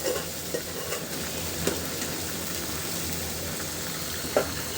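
Vegetables simmering and stirred in a covered cooking pot for a fish curry with potatoes and drumsticks, a continuous close hiss and bubbling sizzle with a few soft stirring knocks.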